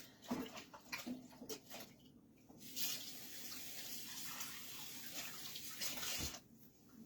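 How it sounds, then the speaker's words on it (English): Cup rinsed under a running kitchen tap: a few short splashes and clinks at first, then a steady close stream of water that cuts off near the end. "let me get my cup, put in my water over here. Rinse it out."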